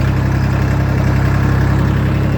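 A YTO 244 SX tractor ploughing a field on a hilltop gives a loud, close engine drone with a steady low throb, continuous and alone without speech.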